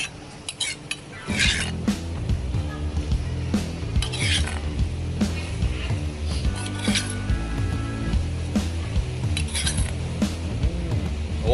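Metal utensils clink and scrape against a stone mortar while it is rinsed out with coconut milk for a Thai chu chee curry, with repeated rubbing and stirring over a continuous musical background.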